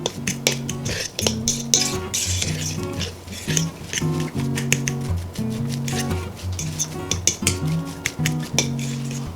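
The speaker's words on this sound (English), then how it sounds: "So you're using a fork to make sure you get all of those fine ingredients" A fork stirs and scrapes through a cauliflower pizza crust paste for a keto recipe, giving a steady run of quick clinks and scratches against the bowl, close up, over low background music.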